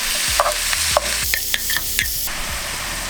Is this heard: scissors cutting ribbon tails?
no